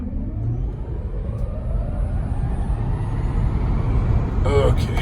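A Tesla Model Y fitted with Acceleration Boost launches hard on a quiet road, a close steady whir and road roar building gradually over several seconds.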